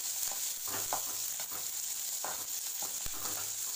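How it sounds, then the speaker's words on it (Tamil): Onion, dried red chillies and curry leaves sizzle steadily in hot oil for ridge gourd fry, with a spoon stirring and scraping the pan in intermittent close knocks. "வெங்காயத்தை போடுறேன் நல்ல வரமிளகாய் கருவேப்பிலை மூணையும் போட்டு நல்லா கிளறுது"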